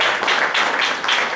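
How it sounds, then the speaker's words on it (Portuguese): A church congregation applauding during a youth service, a dense, continuous wash of many hands clapping at once, loud and close, with no clear pauses. "Vamos dar uma salva de palmas para Jesus"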